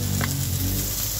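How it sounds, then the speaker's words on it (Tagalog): Garlic sizzling in hot oil in a pan for Filipino ginisang monggo, a dense, steady crackle and hiss close up with no talk. "Igisa na natin guys yung ating bawang."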